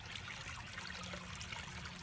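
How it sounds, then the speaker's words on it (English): Water trickles steadily down a small waterfall into a koi pond outdoors in early summer, a continuous soft babbling wash of splashing heard close and alone, with no voices. "Nice little waterfall action."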